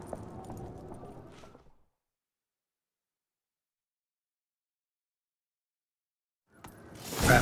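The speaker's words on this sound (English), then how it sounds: "Grab a horse, we'll chase him down." Horse hooves clip-clop during a gallop in The Witcher 3, lasting under two seconds before a long silence, then a loud rush of sound at the end.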